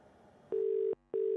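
A phone call rings unanswered: two long, steady electronic ringback tones with a short gap between them, clear and close, preceded by faint indistinct background noise.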